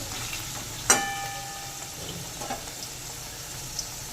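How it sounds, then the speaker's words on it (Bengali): Nigella seeds frying in hot oil in a pan with browned taro and potato for a hilsa curry, a soft steady sizzle with a sharp clink early and a few light stirring scrapes, no voices. "এবার দিয়ে দেবো কিছুটা কালো জিরে ফোড়নের জন্য। একটু নেড়ে নেব।"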